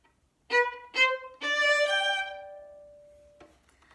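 Violin plays two short, hooked staccato notes followed by a smoother, slurred legato phrase that fades out, solo and close, from the Martini Gavotte.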